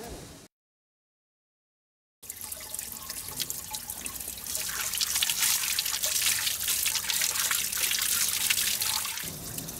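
Water flowing in Pravets, a steady splashing rush like a running tap or fountain, close and continuous, starting after a short silence and swelling slightly louder, with no voices.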